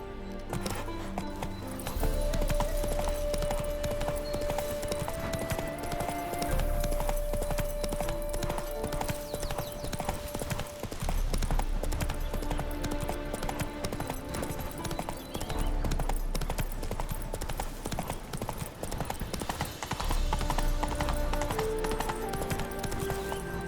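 The horse Roach gallops in The Witcher 3: Wild Hunt with steady, rapid hoofbeats clattering over game music and ambience throughout, loud and continuous.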